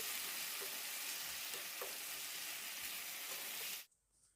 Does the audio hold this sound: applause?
no